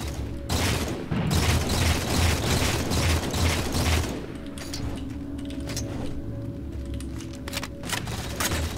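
Continuous gunfire and a grenade explosion in a Halo 4 multiplayer match, loud dense shooting for several seconds easing into lighter clicking shots and mechanical game sounds.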